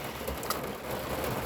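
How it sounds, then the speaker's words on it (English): Steady rain falls outdoors as a close, even hiss with faint scattered drip sounds, with no speech. "We're gonna sit here and get rained on."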